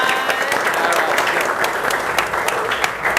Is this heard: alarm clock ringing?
no